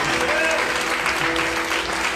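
Church congregation applauds throughout, a steady dense clapping with a faint tone and some voices mixed in underneath.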